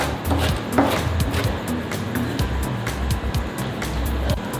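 A knife slices through cabbage on a cutting board for coleslaw, a string of crisp, irregular chopping thuds and crunchy cuts heard up close, fairly quick and steady with no talking.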